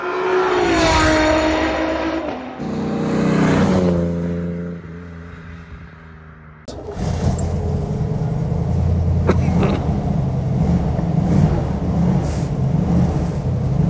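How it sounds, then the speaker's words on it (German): A 1965 Iso Grifo 365 GL prototype with an American Chevy V8 of 330 hp pulls away, its engine revving through rising gears with a shift, then settling into a steady loud rumble on the road. "man hört schon diesen tollen Sound der amerikanischen Chevy-Maschine"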